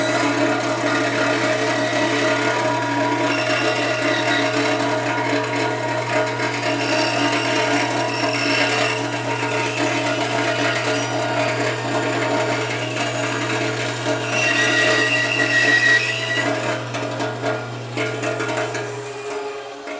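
A bandsaw with a 1/4-inch blade cuts a tight curve in wood, giving a steady rasping, rubbing buzz under a constant motor hum for the whole stretch, with no talking.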